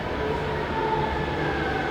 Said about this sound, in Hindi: इधर आएगी हमारी मेट्रो।